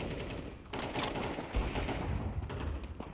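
Submachine gun fire during a professional Counter-Strike match at IEM Cologne, with rapid crackling bursts of shots that overlap and repeat across the moment, moderately loud against an arena-like background.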